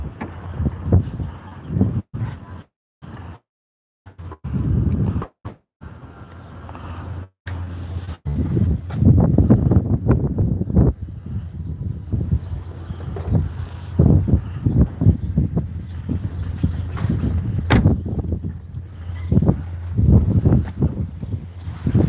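Gusty wind rushes and buffets across the microphone, fluctuating in strength with brief drops to near silence early on, then a sustained rough roar.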